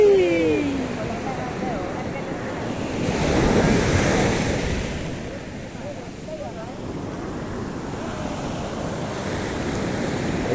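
Ocean surf rolls onto the beach at San Juan, La Union, a steady roar that swells to a crashing surge midway, with heavy wind buffeting the microphone and a brief voice at the start.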